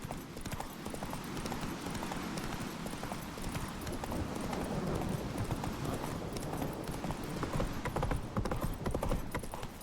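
Roach, the horse in The Witcher 3, gallops in a fast, steady clip-clop of hooves, rhythmic and fairly faint, with game background noise underneath.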